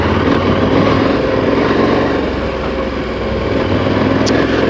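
A KTM Super Adventure motorcycle in sport mode rides off-road on a ranch, its engine a steady, loud drone mixed with wind and rough-terrain noise throughout.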